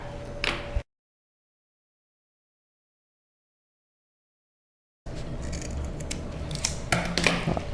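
Scissors cutting a curve into a toilet bath mat, with short crunching snips at the start and again after a long silent gap, close and fairly clear.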